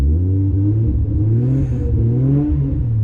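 A built turbocharged Nissan RB25DET engine in an R33 Skyline revs up and down repeatedly, loud and close, with a throaty, raspy, rising-and-falling growl.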